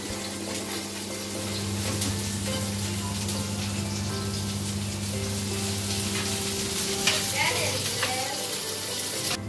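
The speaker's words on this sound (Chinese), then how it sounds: "我们再给它洋葱炒一下，香的炒一下暖先" Chopped onions stir-fry in a wok, a steady hiss running throughout with scraping and clattering of a spatula over a low hum, growing busier toward the end.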